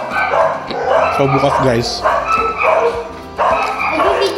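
Dogs bark at night in a home setting, with repeated yips and barks mixed under steady Filipino conversation and background clatter.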